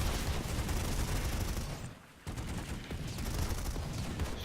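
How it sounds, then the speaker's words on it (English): Rapid bursts of battle rifle fire in a competitive video game match, dense overlapping shots with a short lull in the middle before the crossfire picks up again, loud and continuous. "Carl also with his battle rifle doing some damage"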